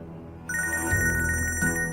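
A telephone rings loudly and close, its electronic bell tone starting about halfway in and repeating in a steady pattern with no talk over it.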